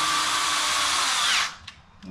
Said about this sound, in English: you can take your drill and screw that in